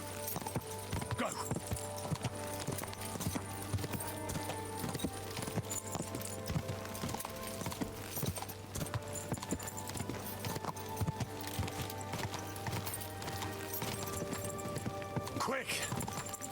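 Horse hooves clip-clop steadily in Kingdom Come: Deliverance II, a rapid continuous trotting rhythm over a dense game soundscape, with a voice talking over it at times.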